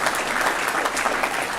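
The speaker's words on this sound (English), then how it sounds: "You should clap for that." An audience at a school board meeting applauds steadily, with dense, even clapping held at a fairly loud level throughout and no talk over it.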